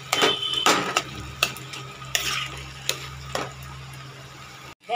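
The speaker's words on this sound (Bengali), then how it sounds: "দেখো বন্ধুরা কত সুন্দর মিশিয়ে দিলাম টমেটোর সাথে আর তেঁতুলের সাথে।" Ripe tomatoes and tamarind for a pickle are mixed in a pan, heard as repeated scraping and stirring strokes with soft clinks and a faint sizzle, close up, several distinct passes, without talking.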